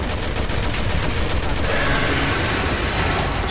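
Rapid gunfire from the video game Resident Evil 6, a dense, loud burst of shots and explosive booms running steadily throughout, with a player's voice shouting over the action.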